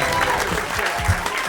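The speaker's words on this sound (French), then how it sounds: "vous pouvez m'applaudir." A studio audience claps briefly, a dense burst of applause from a crowd that holds steady at close, loud level under a little voice in the background.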